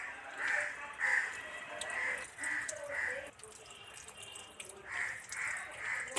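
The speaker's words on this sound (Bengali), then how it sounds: "কাক কাকা করছে" A crow caws outdoors on a winter morning, giving a series of harsh, evenly spaced calls. The calls pause briefly and then start again, moderately loud over faint background noise.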